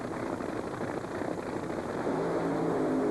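Nitro-burning drag racing engines of about 4,000 horsepower at full power during a 1989 NHRA California Nationals run, a steady, dense, loud roar that swells slightly toward the end, with no voices.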